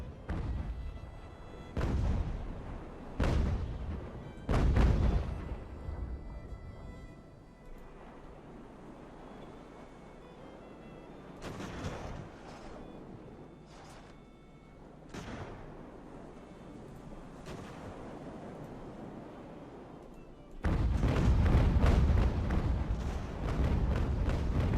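Booming naval cannon fire in Ultimate Admiral: Age of Sail, heavy separate shots and broadside volleys spread out with pauses, each trailing a low rumble, and a louder sustained barrage near the end.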